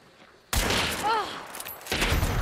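Gunfire in the multiplayer shooter Hunt: Showdown bursts in suddenly as a loud, close volley of shots with ringing and rumble, then a second burst follows after a brief lull.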